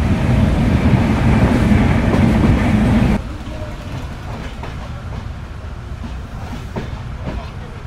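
The Drutojan Express passenger train runs on the rails after leaving Phulbari station on the Panchagarh–Dhaka route, a loud continuous rumble and rattle heard from onboard that drops to a steadier, quieter rolling clatter partway through.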